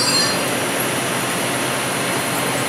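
A 2005 Mori Seiki NL 2500 CNC lathe with a 1250 mm bed runs its spindle at high RPM, producing a loud, steady whine and broadband hiss that holds constant throughout, with no voices.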